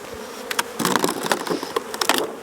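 Honey bees buzzing around an opened hive during an inspection, a close, busy swarm hum with sharp wingbeat flurries as bees fly past, and no talk.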